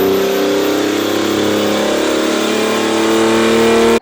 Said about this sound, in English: This is probably my favourite addition, the exhaust.